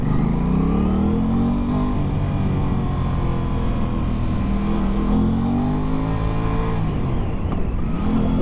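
A 2021 Aprilia RS 660 sport motorcycle, A2 version, pulls hard under throttle, its engine tone climbing steadily in pitch with a strong, continuous roar close to the rider, without any speech.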